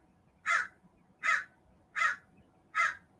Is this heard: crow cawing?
yes